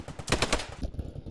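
Rapid automatic gunfire in a video game, a close, loud burst of shots in quick succession lasting about a second.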